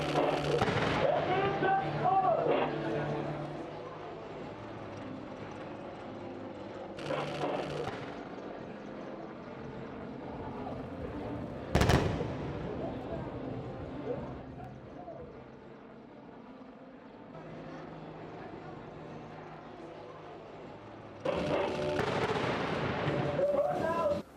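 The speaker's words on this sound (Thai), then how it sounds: "ทำการยิงทำลายที่หมาย โดยใช้ปืนใหญ่ขนาด 105มิลิเมตรพร้อมด้วยเครื่องยิงลูกระเบิดขนาด 120มิลิเมตรและ 60มิลิเมตร" Live-fire military exercise during Cobra Gold 2025 with 105 mm artillery and 120 mm and 60 mm mortars: a sharp, loud blast rings out midway among distant booms and a rolling rumble, while a voice talks over it.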